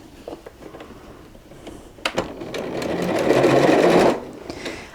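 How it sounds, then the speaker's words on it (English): A sewing machine runs a straight quarter-inch seam along a quilt border, starting with a few clicks and then settling into a quick, close, steady whirring patter for about two seconds before it stops. "just sew 1/4 inch straight down the side"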